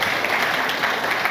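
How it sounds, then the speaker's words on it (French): An audience at a regional consultation day in the District des Savanes applauds loudly for the president of the Republic, Alassane Ouattara, a dense, sustained burst of clapping heard close. "son Excellence Alassane Ouattara, que je vous demande d'applaudir très fort."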